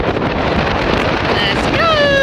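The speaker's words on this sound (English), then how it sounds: "Wind blowing in your face." Strong wind at 9,000 feet on the Palisades Tahoe tram, a loud continuous roar buffeting the microphone, with a voice rising near the end.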